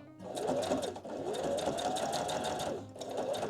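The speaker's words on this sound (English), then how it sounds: "we're going to stitch close to the edge along the 3 bottom edges" A sewing machine stitches close to the edge of fabric, running in a fast, steady mechanical whir with slight speed changes and a brief slowdown near the end, close and clear.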